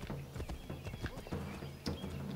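Horse hooves clip-clop at a gallop with a brief neigh in Assassin's Creed 3, rapid rhythmic thuds running throughout at moderate loudness, with someone talking over it.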